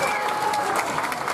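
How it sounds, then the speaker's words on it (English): Brief burst of audience applause at a folk festival, a dense patter of clapping with a few voices mixed in, fairly close and loud. "Give a round of applause for Osias."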